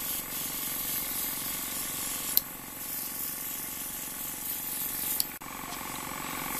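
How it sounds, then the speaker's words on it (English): An airbrush makeup compressor runs with a steady hiss as it sprays, holding an even level for several seconds, with a couple of brief clicks along the way and no talking. "Hear my compressor kick on."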